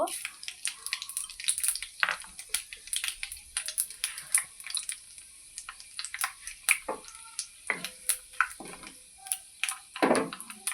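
Panch phoron spices dropped into hot oil with bay leaves in a pan for tomato chutney, crackling and popping in dense, irregular bursts, close and fairly loud, with no talk.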